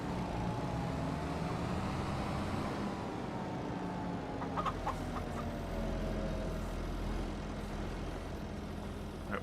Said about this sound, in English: I do like that they just have the chickens running around the farm.